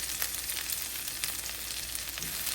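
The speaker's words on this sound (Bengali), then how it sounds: "যে মাছ ভাজার জন্য আমি এই পেঁয়াজ আর কাঁচামরিচটা একটু ভেজে নিচ্ছি।" Onion and green chilli frying in a pan for fish fry, a steady close sizzle with faint crackles running throughout, no voices.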